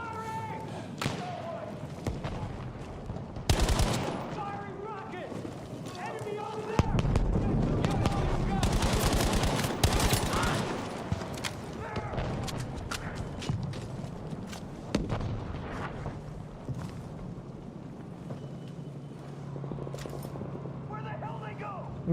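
Gunfire and artillery blasts in the WWII shooter Battlefield V, dense bursts and heavy booming impacts over a chaotic battlefield, with shouted voices mixed in throughout.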